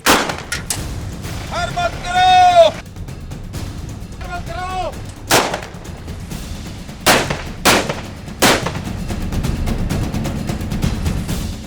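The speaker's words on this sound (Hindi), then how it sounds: "दूसरी जानिब से गोलियां बरसने लगीं।" Sharp, loud gunshots ring out one after another at irregular intervals at night in Punjab, fired at a truck, with a couple of high whistling bursts mixed in among the reports.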